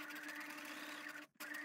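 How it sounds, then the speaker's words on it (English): A sewing machine stitches the elastic waistband fabric of a pair of shorts with a small stitch length, giving a steady, fast mechanical whir that breaks off briefly and then starts again. "I'm sewing with a small stitch length to make sure that it doesn't stretch out any further."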